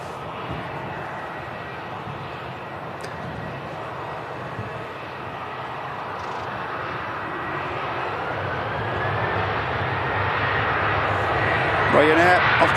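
A Ryanair airliner taking off from Manchester Airport, bound for Faro, its jet roar steady and broadband, swelling gradually toward the end as the aircraft climbs closer.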